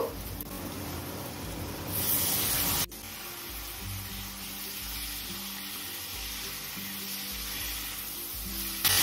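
Chopped dragon fruit sizzling in a pan with spiced rice, a steady close hiss of frying that swells briefly and then settles into an even, continuous sizzle with no talking.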